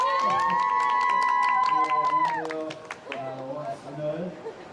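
A crowd cheers and shouts at a Korean outdoor protest sit-in gathering, a loud sustained roar of many voices that fades after a couple of seconds into scattered, softer crowd noise.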